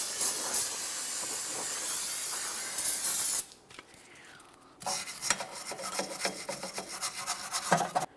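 Aerosol cleaner spraying onto the brake backing plate of a Mitsubishi Lancer, a loud steady hiss that stops briefly and then resumes as broken bursts of spraying and scrubbing, close up.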